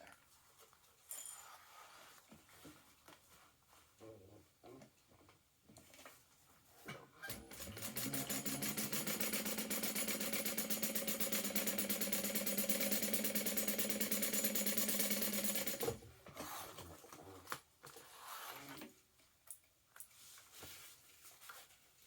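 Two bag lining pieces are stitched together on a sewing machine, a steady close whirring run of about eight seconds after quiet handling noises, then ending with rustles and small clicks.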